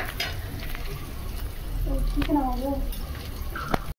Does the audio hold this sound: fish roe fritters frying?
yes